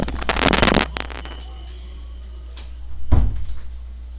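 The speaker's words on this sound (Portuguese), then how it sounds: "Eu vou fechar a porta só um segundo." A door bangs shut nearby: a cluster of clatter and handling knocks, then a solid thud a few seconds later, with a low steady hum underneath.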